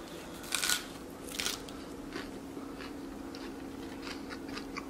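A monkey crunches on raw broccoli in a few crisp, close bites, followed by fainter chewing against a steady low hum, with no talk.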